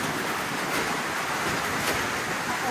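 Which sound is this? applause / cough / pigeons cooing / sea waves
sea waves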